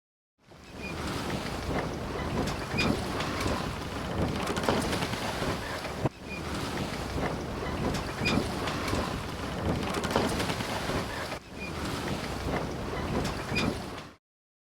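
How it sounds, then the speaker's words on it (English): A boat moves on open water, with waves washing and sloshing against the hull under heavy wind buffeting the microphone, a steady broad rush without talk. "Boat."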